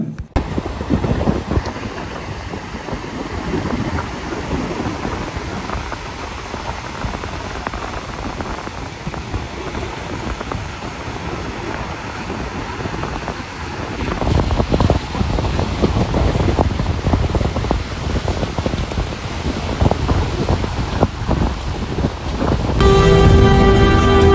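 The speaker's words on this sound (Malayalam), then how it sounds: "ഇതാണ് അഴീക്കൽ ബീച്ച് ഇവിടെ നിന്നാൽ തിര വരുന്നത് കാണാനും അതിൻ്റെ ശബ്ദമൊക്കെ നല്ല വൈബാണ്" Steady roar of surf and gusting wind at Azhikkal beach, loud and continuous with no voices, the wash growing heavier toward the end.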